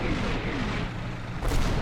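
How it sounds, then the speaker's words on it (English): Continuous low rumbling booms of distant artillery fire from the combat game Combat Mission Black Sea, a dense wash of thuds with a sharper swell near the end. "Artillery still coming down."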